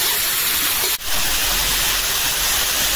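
Rice is rinsed in water in a home kitchen, a steady wash of splashing noise with one brief dip in the middle, no talk.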